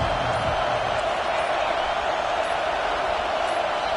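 A loud football stadium crowd roars steadily during a defensive play, a dense continuous wall of noise that does not let up.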